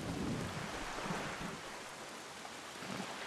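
Steady rain pours with low rumbling thunder in a stormy sea scene from The Wind Waker HD, a continuous wash of noise at moderate level with no talking.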